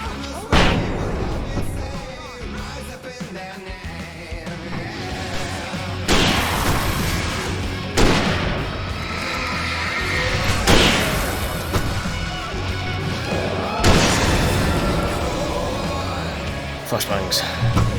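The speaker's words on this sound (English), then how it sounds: "Flashbangs." Flashbang explosions in the video game Alan Wake go off as several loud, booming bursts spread a few seconds apart, each with a long bright wash, mixed with character voices talking throughout.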